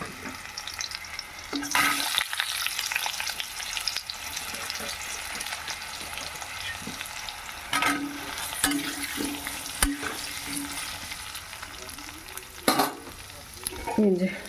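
Potatoes frying in hot oil with black cumin and green chili, sizzling steadily with bursts of stirring and scraping in the pan, close and moderately loud, without talk.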